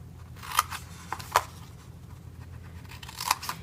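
Scissors cutting paper pieces for a handmade treat box: three distinct snips spaced out over a quiet background hum, close and crisp.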